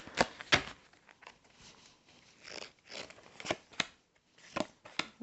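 Playing cards being shuffled close up, a series of crisp riffling bursts and soft flutters with short pauses between them.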